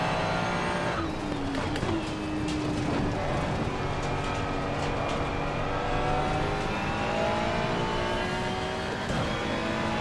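A Ferrari race car in Assetto Corsa Competizione laps Watkins Glen, its loud engine climbing and dropping through the gears in a continuous howl, with tyre noise as the car slides.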